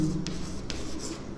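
Pen writing a geometry solution by hand on paper, with soft continuous scratching strokes and a few brief sharper scrapes, close and quiet over a low background hum.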